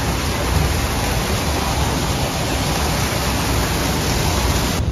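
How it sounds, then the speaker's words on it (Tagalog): An artificial waterfall in a city pours in a loud, steady, unbroken rush of falling water, filling the scene close by with no voices heard. "here's another artificial waterfalls. That's what we get in the city."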